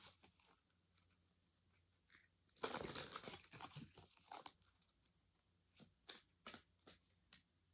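Quiet, close-up tarot card shuffling during a tarot reading: a burst of riffling and flicking, then scattered soft snaps and taps of cards, with no one speaking.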